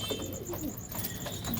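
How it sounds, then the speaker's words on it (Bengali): Pigeons coo softly and repeatedly while pecking at wheat at night, a close, low, murmuring coo with faint chirps and a steady background hum. "পায়রাগুলো খায় এবং খাওয়ার সময় যখন ডাকাডাকি করে খুব ভালো লাগে আমার"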